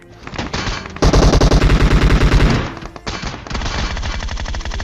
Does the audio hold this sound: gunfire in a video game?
yes